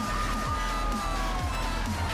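A police car siren wails in Grand Theft Auto 3 amid game engine rumble, with a rising and falling tone cycling steadily through a dense mix of driving noise.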